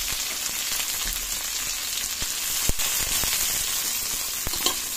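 Garlic, onion, tomato and spring onion leaves sauté in a hot pan with a steady, close crackling sizzle and a few sharper pops and clicks from stirring, with no talking.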